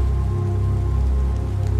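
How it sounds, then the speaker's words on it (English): Rain in The Planet Crafter video game makes a continuous, fairly loud, even wash of steady patter with a low hum beneath and no talking. "It's raining quite a lot now."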